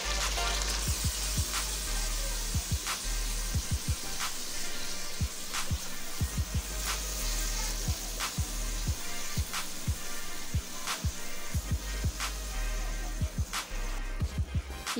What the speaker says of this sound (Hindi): अब ये इसमें दही डालेंगे।